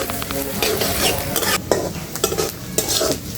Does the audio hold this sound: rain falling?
no